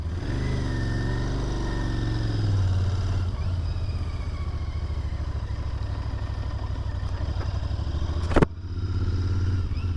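A Royal Enfield Continental GT 650 twin-cylinder motorcycle idles with a low rumble, then revs and pulls away, its engine note steady and close, with a sharp click near the end.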